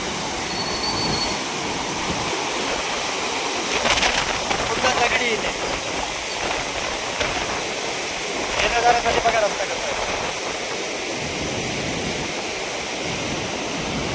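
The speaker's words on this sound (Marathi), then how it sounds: "ओव्हरफ्लोचा गेट स्पिले गेटचं पाणी सोडलेलं दहा हजार क्युसेसने पाणी चालू आहे" A powerful, continuous roar of water rushing out of the Bhandardara dam spillway gates at about ten thousand cusecs fills the scene, broad and steady, with brief surges in intensity and faint voices in the background.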